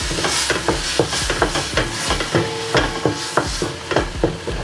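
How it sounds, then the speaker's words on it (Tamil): Chopped tomatoes sauté in a pan for a fish curry, a continuous sizzle punctuated by frequent stirring scrapes and clacks of a spoon against the metal, close and busy with no voices. "தக்காளி வதங்கட்டும்."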